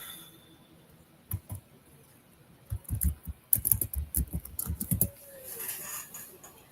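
Quick bursts of clicky keystrokes on a computer keyboard, faint and close, coming in short irregular runs with a pause between them against a quiet room.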